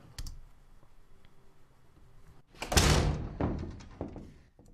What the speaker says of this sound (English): These include things like the doors, which we could listen to by